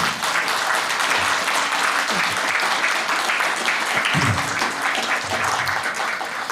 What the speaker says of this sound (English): Let's have another round of applause for Chris Bain.